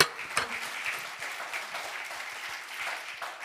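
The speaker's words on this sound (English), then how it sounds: "You can hear applause" Applause from a conference audience at a high-level UN panel, a steady patter of many clapping hands, moderately distant and even throughout, no speech.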